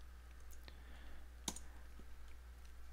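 A few soft, faint computer mouse clicks sound alone over a low steady hum while the installer is clicked in QRadar CE.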